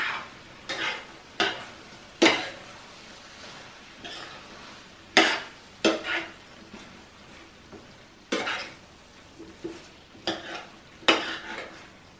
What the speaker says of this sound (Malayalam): യോഗർട്ട് ചേർത്തിട്ട് നന്നായിട്ടൊന്ന് ഇളക്കി കൊടുക്കുക.